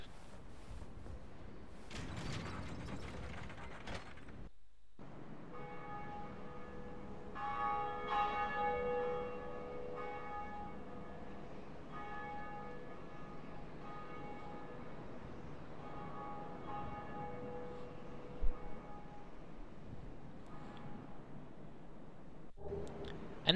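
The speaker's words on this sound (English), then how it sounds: "when you ring it, everybody in the area will be able to hear it ring, hear it chime" The Bell of Awakening in the video game Dark Souls tolls with deep, resonant strikes and long ringing decays that carry across a quiet game ambience.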